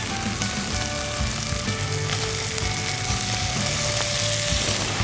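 Mutton cooks in frying masala for yakhni pulao, a dense, continuous sizzle heard up close with a low rumble beneath it and occasional faint stirring.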